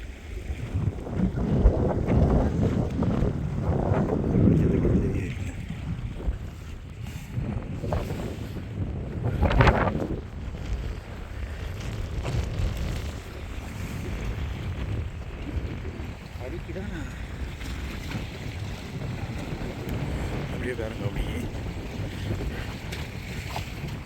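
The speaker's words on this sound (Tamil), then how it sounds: "இன்னொரு போட்டு போகுதுங்க டென்மார்க் போட்டு அதை போகுது" A Danish boat passes on the water along the Norwegian coast, its engine a low rumble that swells and then fades under heavy wind buffeting the microphone, with someone speaking over it.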